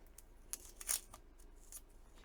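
A small strip of tape is pulled and torn off, a few quick faint ripping crackles close by and otherwise near silence.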